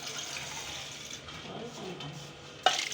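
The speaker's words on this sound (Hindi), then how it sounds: "और अब डालेंगे इसमें पानी।" Water is poured into a cooking pot (patila) for Punjabi-style jaggery rice, a soft continuous splash and trickle in a home kitchen, fairly quiet, ending with a brief clatter.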